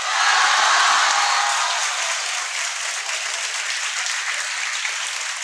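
Sustained audience applause for a popular teacher at a school felicitation ceremony for Class X achievers, dense clapping from a sizable crowd that swells early then holds steady, without talk.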